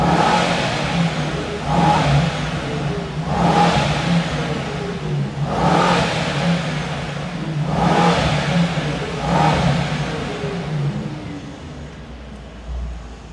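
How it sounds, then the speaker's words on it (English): Mercedes-AMG GT63S E-Performance hybrid V8 started in Sport Plus mode, giving a series of five loud, evenly spaced revving bursts over a steady low rumble, then settling toward a quieter idle at the end. "You can still hear and clearly hear the V8 rumble, yes. You can also hear a bit of the turbo spoon"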